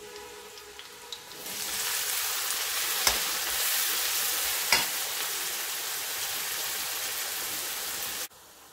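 Onions hit a hot pan of garlic for kala chana masala and sizzle in a loud, sustained hiss that starts after a second and a half, with a couple of sharp crackles, then cuts off abruptly near the end.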